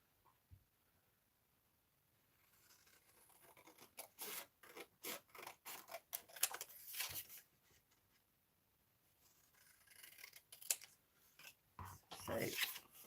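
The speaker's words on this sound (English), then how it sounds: "so we can cut these counterparts up" Scissors cut paper pieces for a snail mail kit, a run of close, quiet snips and rustles in bursts with pauses between.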